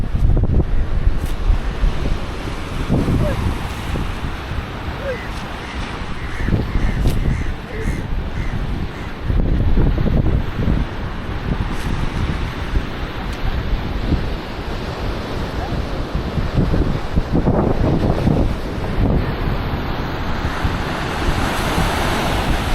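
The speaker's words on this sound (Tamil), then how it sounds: "அந்த கடல் அலையெல்லாம் ரொம்ப வேகமாக இருக்குது" Strong sea waves roll in and crash steadily on a fishing village shore in Negombo, Sri Lanka, with wind buffeting the microphone and crows cawing intermittently across the scene.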